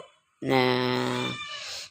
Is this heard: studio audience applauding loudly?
no